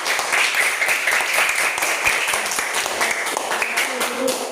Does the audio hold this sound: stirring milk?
no